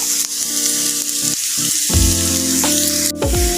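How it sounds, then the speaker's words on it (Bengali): Chopped onion and garlic sizzle in hot oil as they are stirred and tossed, a close, even frying hiss with several scraping and clattering strokes of a utensil against the pan, nobody speaking. "পেঁয়াজ কুচি আর রসুন কুচিটাকে আমরা একটু নেড়ে চেড়ে খুব ভালো করে ভেজে নিব।"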